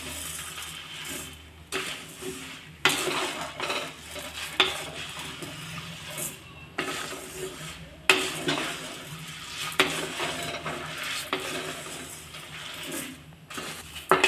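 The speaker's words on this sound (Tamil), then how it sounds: "மிளகா, பூண்டு எல்லாமே நல்லா வறுப்பட்டுறணும்." Chillies and garlic dry-roast in a pan for idli podi, with repeated scraping and clattering stirs of a utensil against metal in uneven bursts over a faint background rustle, no voices.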